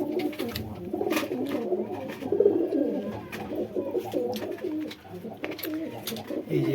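Pigeons coo softly and repeatedly close by while they feed on grain, a continuous low murmur of overlapping calls with a few faint background sounds.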